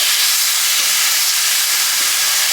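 A steak being flipped in a hot pan for a breakfast steak bowl, giving a steady, close, loud hiss of fat and steam that runs the whole time with no talk over it.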